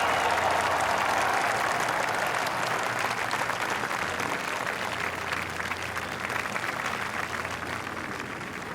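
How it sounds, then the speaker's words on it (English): A crowd in a golf video game applauds a bold eagle putt attempt, steady dense clapping held throughout, loud at first and slowly thinning toward the end. "Oh, you got to applaud him there, though."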